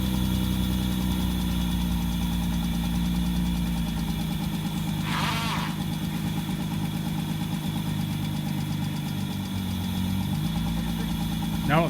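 A car engine, started for the first time after five years parked up, runs at a steady, loud idle from start to finish, with a short hissing burst partway through.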